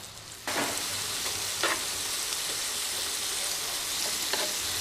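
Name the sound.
pork belly sizzling on a grill pan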